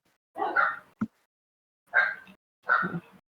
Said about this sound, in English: Doggo in the background.